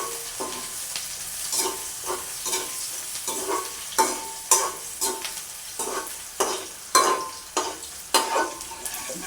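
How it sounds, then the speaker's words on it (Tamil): Spices being tempered in hot oil for a Jaffna-style raw jackfruit curry: a continuous close sizzle broken by regular sharp scraping strokes of a spoon against the pan, growing louder toward the end, with no talking. "இது வந்து நல்ல வடிவாக தாளித்து எடுத்து போட்டு"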